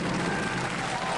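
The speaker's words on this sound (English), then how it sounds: "Crowd likes it." A crowd applauding around the Robot Wars arena, a short burst of dense, steady clapping heard at a moderate distance.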